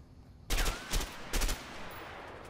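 Nail gun fired in the video game A Way Out: three sharp, loud game gunshots spaced about half a second apart, each with a ringing tail, over a low steady room tone.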